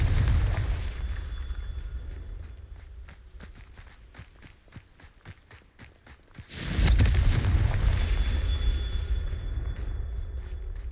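A Confringo fire spell in the Hogwarts Legacy video game ends in a sudden booming explosion after a stretch of quick footsteps, followed by a long, loud rumbling roar that fills the rest of the scene.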